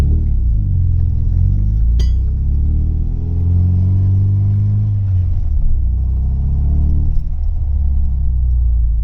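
A car engine runs steadily with a low rumbling drone that rises and falls as the vehicle pulls up the road, a brief sharp clink partway through, no talking.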